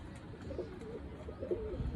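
Soft, low cooing from pigeons repeats a few times close by, over a faint background hiss.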